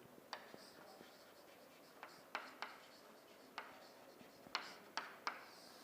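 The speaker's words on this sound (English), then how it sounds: "Now, let me write the table." Pen on paper writing out a table by hand, soft continuous scratching punctuated by sharp tapping strokes at irregular intervals, close and quiet with no talking.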